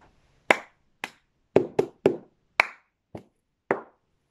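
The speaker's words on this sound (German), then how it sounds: "Hände klatschen, trommeln, Hände klatschen, den Becher nehmen und ein Stück nach rechts versetzen." Cup song rhythm from Pitch Perfect: hand claps, drumming on a surface and a cup tapped down, as eight sharp, close percussive hits in an uneven pattern with quiet gaps between them.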